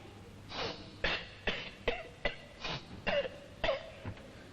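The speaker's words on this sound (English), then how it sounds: "I can't read the story if you're going to sniff and cough all over the place" Someone with a cold coughs and sniffs in a rapid series of about nine short, sharp bursts, close and fairly quiet, with no speech.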